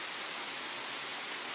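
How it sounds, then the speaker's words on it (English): Kartsadon River waterfall in the North Ossetian nature reserve in the Caucasus, a steady, even broadband rush of falling water, soft and distant in a brief stretch. "Waterfalls like this one are rare not only in the Caucasus, but in the entire world."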